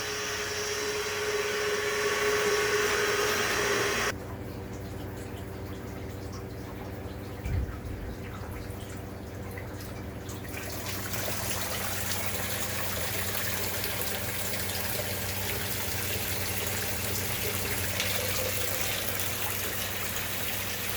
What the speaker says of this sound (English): we should be getting water coming through here